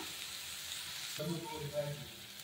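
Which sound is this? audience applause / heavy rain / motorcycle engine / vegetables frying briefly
vegetables frying briefly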